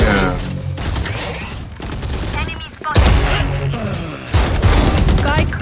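Rapid gunfire from the first-person shooter Valorant, sharp bursts and single shots crackling through a busy match with players talking excitedly over the shooting.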